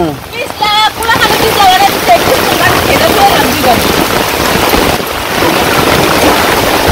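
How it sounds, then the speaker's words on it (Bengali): Heavy rain pouring onto surfaces in a village, driven by strong wind, a loud dense hiss that fills the whole stretch, with a voice speaking briefly near the start. "এত বাতাস, ভিজে গেছি গে"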